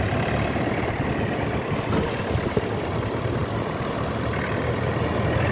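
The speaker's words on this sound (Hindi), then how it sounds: "बिल्कुल आराम आराम से ट्रैक्टर को प्यार से चला रहे हैं" A thirty-year-old tractor hauling a trolley loaded with soil, its engine running steadily with a dense, continuous rumble and no voices over it.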